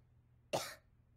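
A cartoon child sick with flu gives one short, sharp cough up close, with faint low background hum around it.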